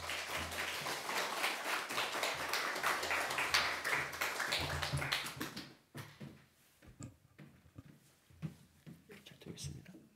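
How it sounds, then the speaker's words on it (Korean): Church congregation clapping to welcome a guest lecturer during a Sunday service, a dense round of applause that stops abruptly halfway, followed by quiet room sounds, scattered taps and soft talk. "자, 우리 강사님 나오실 때 한번 큰 박수 부탁드리겠습니다."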